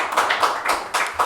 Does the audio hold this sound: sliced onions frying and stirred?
no